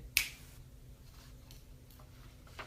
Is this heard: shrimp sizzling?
no